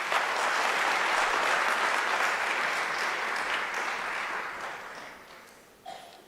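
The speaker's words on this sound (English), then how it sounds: "Ladies and gentlemen, can you please give another round of applause?" A full audience at a student entrepreneurship event breaks into sustained applause, a thick roar of clapping that gradually thins and fades toward the end, followed by a brief bump of other noise.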